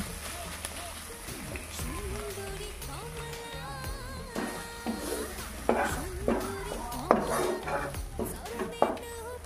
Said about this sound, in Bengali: এবারে শুধু অনবরত নেড়ে নেড়ে শাকের গায়ে যে এক্সট্রা জলটা ছিল সেটা পুরোপুরি শুকিয়ে নিতে হবে।